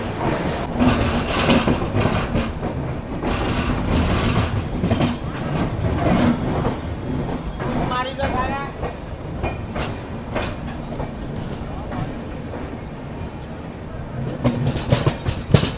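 The Yuva Superfast Express, running in new LHB coaches from Bandra Terminus toward Hazrat Nizamuddin, rumbles along the rails with rhythmic clickety-clack and metallic rattles heard from on board, steady throughout.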